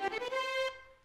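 Sampled violin in Sibelius playback with release set to zero, a single sustained bowed note that cuts off abruptly instead of fading, quiet and alone.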